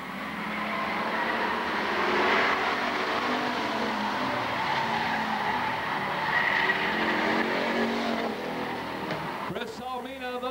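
Bomber class race cars circle Lakeport Speedway in a heat race, engines roaring steadily up close as one car spins out, with tire noise near the end and a race announcer talking over the action.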